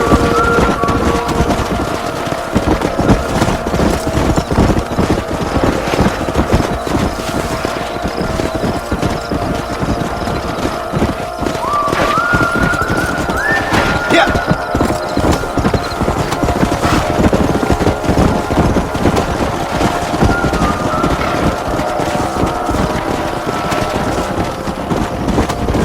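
Horse hooves clip-clop at a gallop in the Red Dead Redemption video game, a fast steady drumming beat that runs throughout, with wind noise and a brief whinny in the middle.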